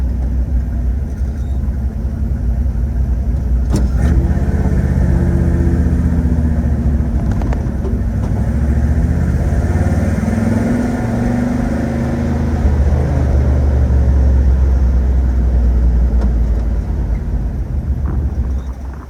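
A 1963 Ford F250 pickup driving along, its engine and drivetrain giving a steady loud low rumble with shifting tonal whine as the transmission engages gears, heard close from inside the cab without talk.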